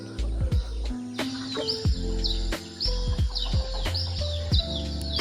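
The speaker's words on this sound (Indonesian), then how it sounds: "Terdengar suara kicauan burung dan kokokan ayam." Birds chirp and twitter in repeated bursts on a quiet village morning at sunrise, with a rooster crowing and chickens clucking among them, all fairly close and clear with no talking.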